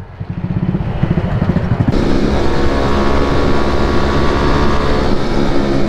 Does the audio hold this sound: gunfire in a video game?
no